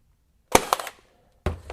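A RIDGID 23ga pin nailer fires pins into wood: two sharp, close pneumatic snaps about a second apart, the first followed by a brief rattling tail.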